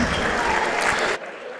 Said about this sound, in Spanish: ¡Aplauso para ambos!